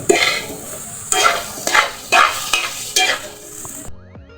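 Beaten, salted eggs fry and get stirred in a pan for an egg Maggi noodle dish, giving bursts of loud sizzling with scraping strokes of a spatula, then a sudden cutoff into quiet clinks.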